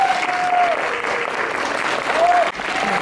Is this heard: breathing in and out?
no